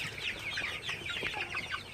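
Sonali super hybrid chickens, 49 days old, clucking together at a farm at night, with a dense and continuous flock chatter of overlapping calls close by.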